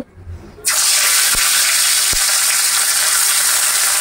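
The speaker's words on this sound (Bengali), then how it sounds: "এখন আমি এটাতে শোল মাছ ভেজে নিব" Turmeric-coated snakehead fish hits hot oil after a quiet moment, bursting into a loud, steady, close sizzle that continues unbroken, with a couple of faint knocks.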